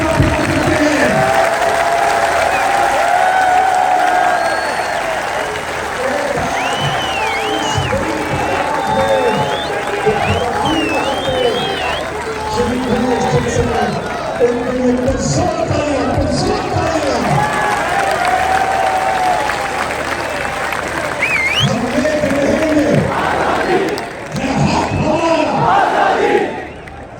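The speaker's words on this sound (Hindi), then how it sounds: "जरा हाथ उठाकर तालियों की गूंज में बताइए कि आप इमरान खान से कितना प्यार करते हैं।" A large crowd at a political rally for Imran Khan in Lahore claps and cheers loudly and steadily for the whole stretch, with shouts rising from the mass of people.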